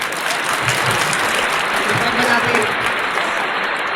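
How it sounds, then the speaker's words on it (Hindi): An audience at a Hindi poetry recital claps steadily throughout, a dense, even wash of many hands with no voices over it. "4-5 लोग ताली बजाओ"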